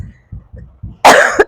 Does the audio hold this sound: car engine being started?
no